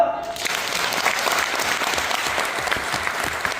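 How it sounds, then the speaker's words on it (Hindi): Sustained applause from a large audience at a training event in Jaipur, steady dense clapping with crowd murmur filling the hall throughout. "11 साल के लिए ताली बजाओ।"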